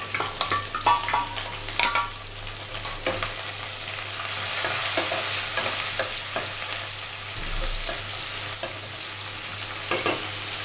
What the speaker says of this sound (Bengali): ফোড়ন হয়ে আসলে আমি এর মধ্যে দিয়ে দিচ্ছি কুচনো রসুন